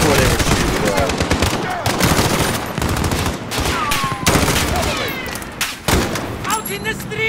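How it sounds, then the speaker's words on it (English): Dense automatic gunfire from Call of Duty: Modern Warfare rattles almost without pause, loud and close, with overlapping bursts and talk mixed in. "Wondering where they were shooting"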